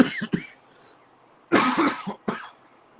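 Several sharp, raspy coughs close to the mic, a quick pair at the start, then a longer burst and one last cough after a pause.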